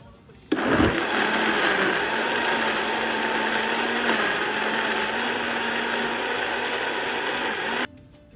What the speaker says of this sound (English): Put it in there and then we send it off to the blender